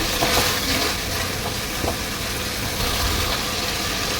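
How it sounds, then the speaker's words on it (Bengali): Chicken khichuri masala sautés in oil in a pan, a steady broadband sizzle with faint stirring scrapes, close and continuous without speech. "চার পাঁচ মিনিট এইভাবে কষিয়ে নেব তেল ওঠা পর্যন্ত"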